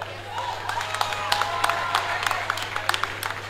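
Audience applause at a comedy show, a dense steady spatter of clapping from a crowd that holds at an even level for several seconds with no talk over it.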